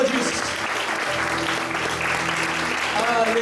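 A church congregation applauds during a sermon, sustained, dense clapping throughout, with a low hum and an instrument's held tones underneath.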